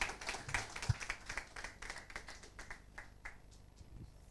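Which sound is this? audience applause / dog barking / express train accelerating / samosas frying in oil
audience applause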